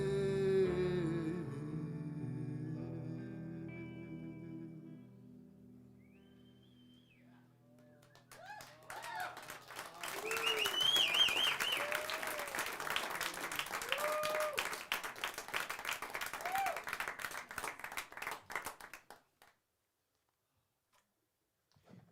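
Audience applause rising after a quieter musical passage, a dense sustained patter of many hands clapping that runs for several seconds alongside voices, then stops abruptly into silence.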